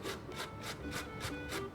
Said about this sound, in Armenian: Ահա, քերում ենք կարտոֆիլը։